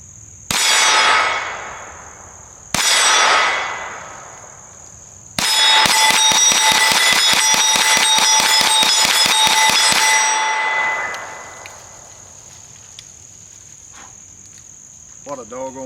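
Smith & Wesson FPC 9mm pistol-caliber carbine shots ringing a steel target outdoors: two separate loud clangs with ringing decay, then a rapid string of about twenty shots, each ring trailing off into quiet.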